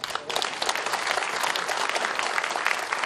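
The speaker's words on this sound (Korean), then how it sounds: "박수 한번 부탁드리겠습니다." A full hall of business people at a Korea Chamber of Commerce special lecture gives presidential candidate Moon Jae-in a steady, dense round of applause with no talk over it.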